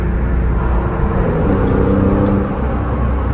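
A car's engine and exhaust drone steadily from inside while driving, a loud, even rumble with a slight swell midway and no voices.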